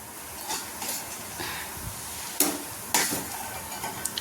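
Onions and ingredients frying in hot oil for onion lemon rice give a steady, soft sizzle, broken by a few sharp clinks of a utensil against the pan.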